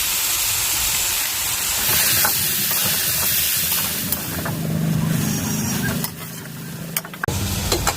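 Boiled jackfruit and potato stirred into hot fried spice masala in oil, hissing and sizzling steadily with scraping stirs, the sizzle easing in the last seconds.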